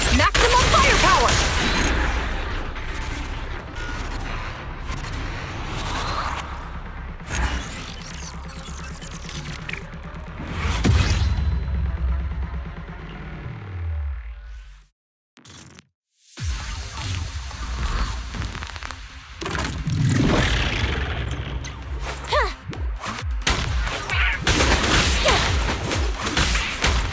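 Rapid gunfire bursts and heavy booming explosions from Zenless Zone Zero combat with the Suppressor K-22, loud and dense throughout, broken by a brief near-silent gap midway before the barrage resumes.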